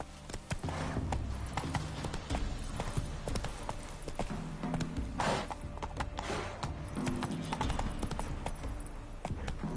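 Roach, the horse from The Witcher video game, gallops steadily with dense rapid clip-clop hoofbeats throughout, close and loud, with a brief whinny-like accent midway.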